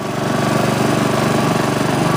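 A Honda HRX217 lawn mower runs steadily with its self-propelled drive engaged, a loud, close, continuous engine drone with a regular pulsing throb and no pauses.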